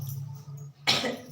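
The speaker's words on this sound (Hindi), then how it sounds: "खांसी आने लगी का है?" Indoors, one sharp, fairly close cough follows a low steady hum.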